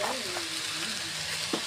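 Chicken fried rice sizzles loudly and continuously in a pan as soy sauce goes in, with a sharp hiss swelling near the end and a faint voice underneath.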